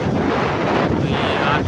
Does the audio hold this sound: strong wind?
yes